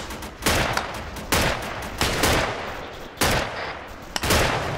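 Video-game gunfire aimed at the tires of an armored BTR vehicle on a road: loud, close, sustained automatic fire in several heavy bursts with brief dips between them, with no voices.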